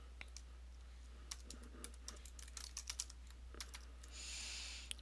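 A password is typed on a computer keyboard with quick, irregular, quiet key clicks, close and alone in a very quiet room.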